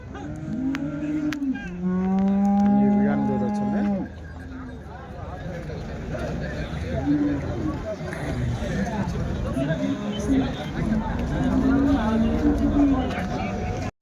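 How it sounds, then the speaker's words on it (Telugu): Holstein black cows at a Sunday cattle market in Chintamani, with loud nearby moos lasting a second or two, followed by busy market chatter, crowd noise and further scattered lowing. "చూడండి ఓలిస్టన్ బ్లాక్ అయితే ఉన్నాయి"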